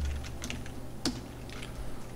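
Keystrokes on a computer keyboard while drafting a 2D injection mould drawing, a few light scattered clicks with one sharper press near the middle, no talking.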